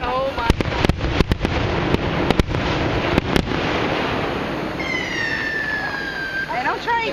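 Fourth of July fireworks in Stroudsburg, Pennsylvania: a rapid run of sharp cracks and bangs over a dense crowd roar, followed by whistling, rising shells, loud and fairly near, with people talking and shouting throughout.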